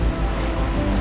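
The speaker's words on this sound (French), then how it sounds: "longue houle, grosse houle." Long, heavy ocean swell near the Marquesas surges and rumbles in a steady low wash of surf, loud and close, with no voices.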